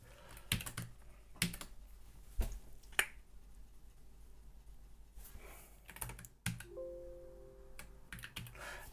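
Sparse keystrokes clack on a reprogrammable mechanical keyboard, a handful of sharp, close clicks separated by pauses, with a short run of quicker presses near the end, over a quiet room.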